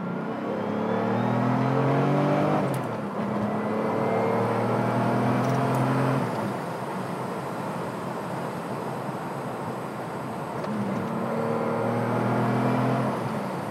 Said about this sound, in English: Speaking of the turbo, let's see how Will's getting on with all 400 horsepower of it.